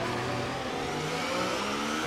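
Formula 1 race cars in a video game, engines screaming at high revs as they pass, a loud, steady whine with a hint of tire squeal and no talking.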